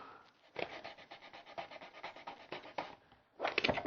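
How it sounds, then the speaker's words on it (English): Sandpaper scuffing the back end of a model rocket part produces close, rhythmic rubbing strokes in a quick back-and-forth run, a brief pause, and then a final burst of harder scraping. "This back end, we're going to want to scuff it up with some sandpaper."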